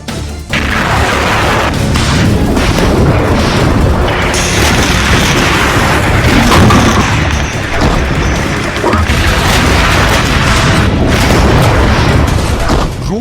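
Loud, continuous missile explosions in Kharkiv during the Russia-Ukraine war: deep booms and crashing blasts pile on one another for over ten seconds, with a voice faintly audible underneath.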